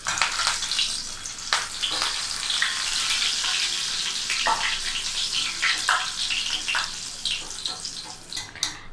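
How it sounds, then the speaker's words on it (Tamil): Curry leaves crackle and sizzle steadily in hot oil while frying for an aval mixture, a dense bubbling hiss with scattered louder pops throughout, close and continuous with no talking. "அடுத்ததாக கருவேப்பிலை சேர்த்துக்கலாம்"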